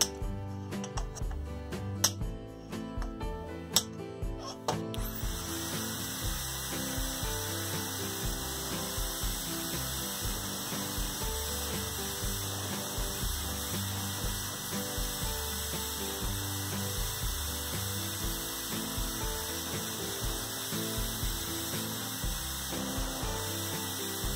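A power drill bores a hole in a DIY 300-watt mono audio amplifier board, running as a steady, continuous whine for about twenty seconds after a few brief clicks at the start.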